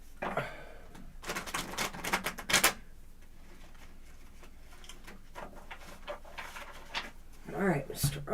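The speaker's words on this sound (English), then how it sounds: "I'm going to give it one more shuffle." A deck of tarot cards is shuffled in several quick riffling bursts near the listener, mixed with people talking.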